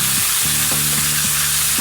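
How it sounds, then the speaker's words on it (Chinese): Lamb meat stir-fried in a hot pan for kimchi lamb pancakes, producing a loud, dense sizzle broken by a series of spatula scrapes and clanks against the pan, with no talking. "呢隻羊肉係炒啊，咁直到佢炒到全熟"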